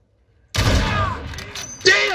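Rapid gunfire bursts in Call of Duty: Modern Warfare, a sharp volley followed by a second burst, close and loud over game ambience.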